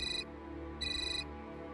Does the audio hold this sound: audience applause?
no